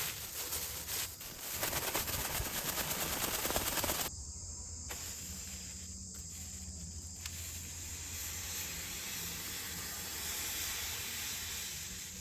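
A test burn of potassium nitrate and sugar rocket fuel gives a loud, harsh hissing rush for about four seconds, then it drops to a softer, steady hiss.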